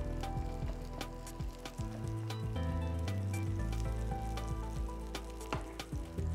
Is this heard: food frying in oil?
yes